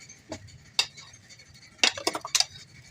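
Metal spoon clinks and scrapes against a bowl while spices are mixed into shredded raw mango pickle, a few scattered taps at first, then a quick cluster of sharp clinks near the end, close and clear.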